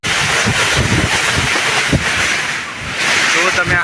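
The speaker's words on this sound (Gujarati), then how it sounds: "કેટલો પવન આવે છે જોઈ શકો છો યાર તમે" Strong wind gusting outdoors during a storm, roaring as a loud, continuous broadband rush near the microphone, with a person talking over it.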